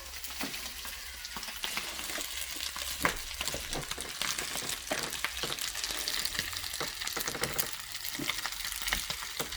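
African fried rice sizzles and scrapes in a pan as it is stirred and mixed, a steady close crackle with irregular spoon knocks throughout.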